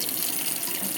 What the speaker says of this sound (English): now I'm going to start by rinsing it off